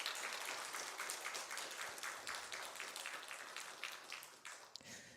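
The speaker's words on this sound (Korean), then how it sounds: "박수 한번 해주십시오" A Sunday church congregation applauds a returning deaconess with steady, moderately dense clapping. It sounds soft and somewhat distant, holds evenly, then stops near the end.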